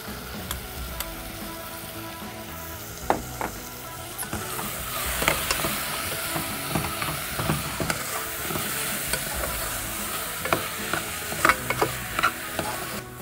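Boiled potato pieces and carrots for paneer vegetable biryani are stirred in a sizzling pan, with a steady frying hiss broken by irregular scraping clicks of the spoon, close and clear with no talk.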